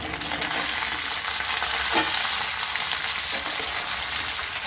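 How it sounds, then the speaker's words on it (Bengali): Chopped vegetables cooking in a pan of frying moong dal, a dense, steady sizzle with a faint stir partway through, close and continuous. "কেটে রাখা সবজিটা কিন্তু আমি এর মধ্যে দিয়ে দেবো।"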